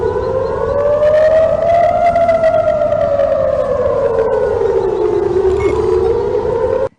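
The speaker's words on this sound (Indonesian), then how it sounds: "sirine berbunyi di Tel Aviv" A civil defense siren wails across Tel Aviv during a rocket attack, one loud sustained tone rising and falling slowly for about seven seconds before cutting off abruptly.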